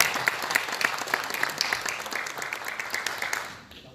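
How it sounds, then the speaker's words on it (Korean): At a local council candidates' debate, the audience applauds to welcome a university professor serving as moderator, a steady wash of clapping from a moderate-sized crowd that tapers off at the end. "큰 박수로 맞이해주시기 바랍니다"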